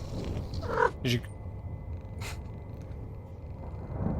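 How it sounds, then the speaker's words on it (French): A cat in the video game September 7th purrs in a low, continuous rumble throughout, with a couple of brief louder sounds early on over the steady purr. "Oh, il ronronne."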